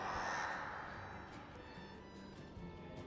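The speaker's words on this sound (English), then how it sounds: "Got the crows doing their thing in here." Crows caw faintly in the distance inside an old Delhi sandstone monument with carved arches, their harsh calls barely rising above a steady echoing ambience.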